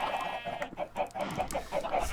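Several chickens cluck in quick, repeated bursts in the video game Minecraft, a nearby flock giving a busy rhythm of short calls with no talking.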